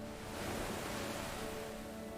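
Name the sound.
ocean waves at the seashore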